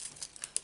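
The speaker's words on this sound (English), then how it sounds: "I'll peel them off with the glue dot" Glue dots being peeled off their backing paper, a few quick, faint crinkly snaps and rustles close up, with no voice present.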